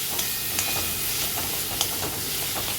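Green chillies, ginger and cashews stirred in hot oil, giving a steady close sizzle and hiss with soft scraping strokes of a spoon against the pan recurring every half second or so.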